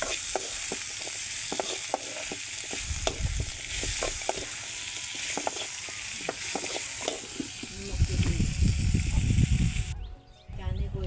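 Potato and vegetable bhaji with turmeric sizzling in a pan, a continuous close fry hiss broken by repeated clinking stirs of a spatula, growing louder and busier near the end.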